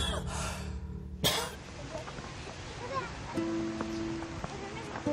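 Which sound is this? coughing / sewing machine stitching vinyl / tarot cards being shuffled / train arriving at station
coughing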